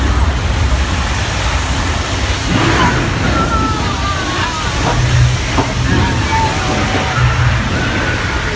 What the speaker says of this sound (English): Look out for the train on the left!